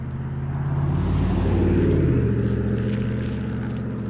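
A car passes close by on a road, its engine and tire roar swelling to a peak and then fading away over a few seconds, with wind buffeting the microphone.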